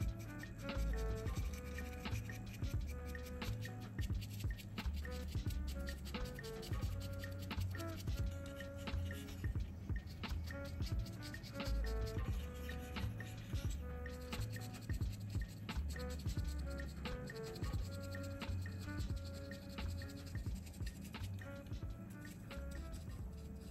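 A stiff brush is dry-brushed with Dark Reaper paint over the cockpit of a Leagues of Votann Sagitaur miniature, producing light, rhythmic bristle scratches that repeat steadily in close, quiet strokes.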